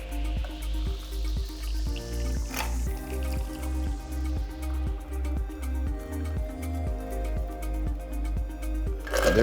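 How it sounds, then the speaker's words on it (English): A Tequila Sunrise cocktail is double strained into a glass, a soft continuous stream of liquid pouring and trickling, steady and close, with a rising tone as the glass fills, over a low rhythmic background hum. "now let's just double strain this right into our glass"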